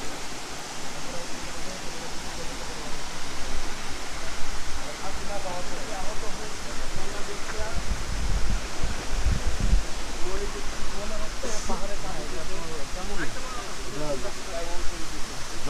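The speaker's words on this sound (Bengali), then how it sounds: "পাহাড় ছেদে ছেদা করে পানি আসছে রাজাই" Rajai waterfall, water pouring down through rocky hills, a steady broadband rush that fills the whole stretch at close range, with a few low thumps partway through.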